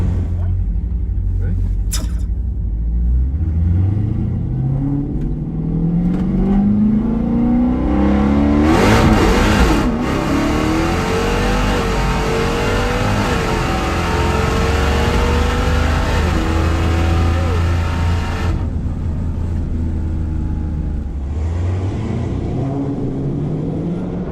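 A 1,000-horsepower Dodge Hellcat launches in a drag race, its engine note climbing through loud rising gear sweeps with a roaring peak midway, crowd and commentary voices underneath.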